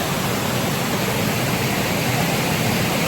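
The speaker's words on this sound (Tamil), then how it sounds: "ஏரி ஃபுல்லாக நிரம்பி தண்ணி வருது" Lake water at Karaivetti Bird Sanctuary spilling over a full weir after rain, a loud, continuous broadband rush that stays steady throughout, close by and with no voices.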